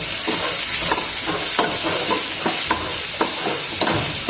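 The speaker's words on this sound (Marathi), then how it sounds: "एवढा कांदा आपण टाकलाय तर याला स्टर करावे लागेल" Onions frying in a pan for a Konkani-style fish curry are stirred in steady repeated strokes, each scrape rising over a constant loud sizzle, close up with no voices.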